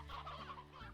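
Chickens in a video game cluck softly in a steady, quiet stream of short, burbling calls, with no voices over them.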